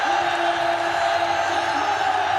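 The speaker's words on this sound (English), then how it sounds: "The biggest cheer on the podium for the Norwegian" A stadium crowd roars and cheers for Manchester City's Norwegian player on the Premier League trophy podium, a steady wide wash of voices with scattered whoops and shouts throughout.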